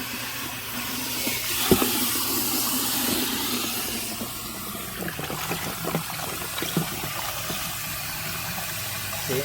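Water sprays and hisses steadily while a pond filter tub is rinsed out, a close, continuous wash with splashy bursts and some knocking in the later half, no voices.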